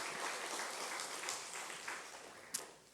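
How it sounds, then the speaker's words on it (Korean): A church congregation at an early-morning service gives a round of applause, a soft, distant wash of clapping that holds steady for a few seconds with one sharper clap near the end. "박수 한번 합시다"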